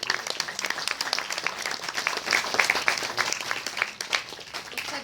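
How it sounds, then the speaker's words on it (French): Audience applause after a theatre show at the Comédie des Remparts, dense steady clapping from a sizable crowd that holds for several seconds, fairly loud and close with no speech over it. "on peut l'applaudir"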